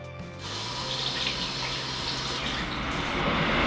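Tap water runs steadily into a sink as tomatoes are washed, a continuous close splashing gush with no talk over it.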